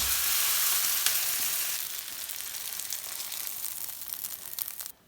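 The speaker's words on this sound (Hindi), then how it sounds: "बस अब हमने अनियन को, टमाटरों को और हरी मिर्च को बस यहाँ तक ही फ्राई करना था।" Onions, tomatoes and green chillies sizzle loudly in a pan for borani baingan. The hiss eases slightly after the first couple of seconds, runs on with crackles, then stops abruptly near the end. No one speaks.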